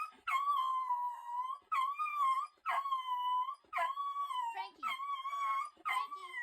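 A dog whimpers and cries in a series of high, drawn-out wails, about six in a row, with a brief voice between them.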